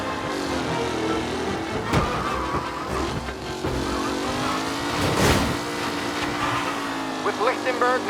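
Race cars speeding around a track in Mafia: Definitive Edition, engines droning and shifting pitch as they roar past, with a commentator's voice talking over the continuous motor noise.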